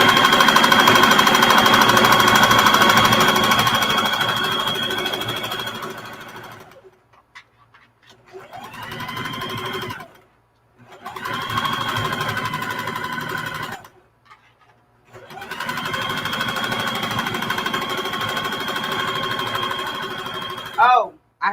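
A sewing machine fitted with a jean needle stitches through a towel in loud, steady runs, stopping and restarting several times with brief near-silent pauses between bursts.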